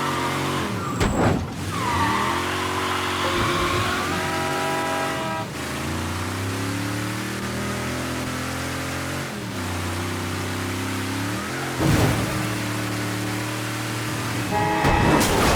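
A car in the video game Mafia III crashes and skids, with a loud engine roar, sweeping tire squeals and sharp impact thumps near the start and again later, with no talk.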